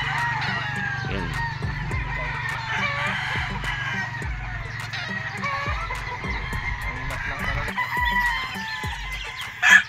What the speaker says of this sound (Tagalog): Ang gaganda ng mga manok nila rito.